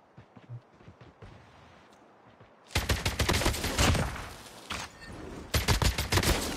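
An AK117 rifle in Call of Duty Mobile fires at a training bot in rapid automatic bursts: one long close volley, a brief pause, then a shorter burst, after quiet movement sounds.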